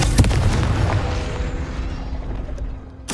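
A Confringo fire spell explodes in the video game Hogwarts Legacy with a loud, booming blast that rumbles and fades over about three seconds, followed by another sharp burst at the end.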